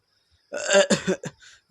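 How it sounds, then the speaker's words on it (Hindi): A man's harsh, throaty cough, a few rough bursts in quick succession, close and fairly loud. "उन्होंने खांसते हुए पूछा,"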